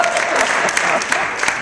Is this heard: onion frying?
no